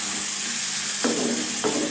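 Hot frying pan of spiced rohu fish roe for a potato and bitter gourd stir fry sizzling steadily, with two sharp hissing bursts as small splashes of water hit the hot pan.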